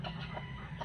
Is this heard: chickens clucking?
yes